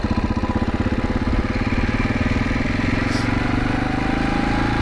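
A supermoto motorcycle engine drones steadily while riding, a loud, close, throbbing single-cylinder note that holds an even pitch throughout.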